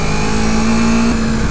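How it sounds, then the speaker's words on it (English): A 2015 Yamaha R3 motorcycle engine drones steadily under engine braking, a loud continuous hum with a slight pitch drop near the end, heard close with wind noise and no talk. "Engine braking is probably a good way to stop the bike better"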